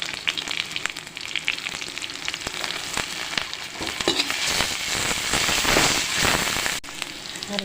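Cumin seeds, ginger and garlic fry in hot oil with a dense, crackling sizzle that swells louder partway through, punctuated by sharp spatters and stirring clicks.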